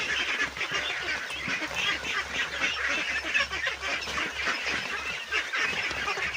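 A flock of ducks feeding on azolla, dense continuous quacking and honking chatter from many birds at once, loud and steady throughout.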